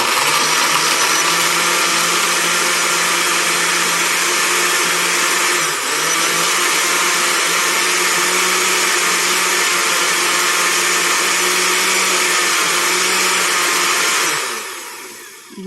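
A blender runs loudly and steadily with a high whirring roar, holding constant for a long stretch before winding down abruptly near the end.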